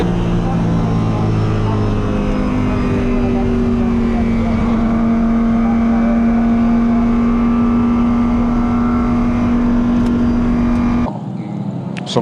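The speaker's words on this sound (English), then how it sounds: "ecco Jeroen Mul che sta tagliando il traguardo in una gara dominata dal primo all'ultimo giro della Lamborghini Huracan" Lamborghini Huracan GT3 Evo race car in the Italian GT Sprint championship at Vallelunga, a loud sustained engine drone with shifting pitch as it crosses the finish line, then an abrupt cut near the end.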